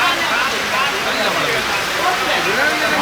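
Heavy rain pours steadily in Jaffna during a thunderstorm and flooding, a dense continuous hiss of drops on surfaces with no break.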